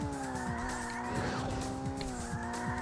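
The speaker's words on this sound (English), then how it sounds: "do another round of drifts around these corners." In a racing video game, a car drifts around corners, its tires squealing in long, sustained tones over a steady engine drone, with repeated skids layered close and continuous.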